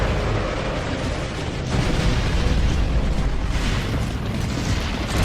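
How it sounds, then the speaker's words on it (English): Mortar explosions in the video game Gears of War: Judgment, a sustained roar of blasts and rumbling debris, loud and dense with a heavier surge partway through. "Mortars! The grubs are gonna flatten that house if we don't stop them."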